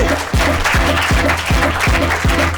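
Studio audience applauds a lyricist on a French-language show, with steady clapping under a repeating rhythmic beat of music.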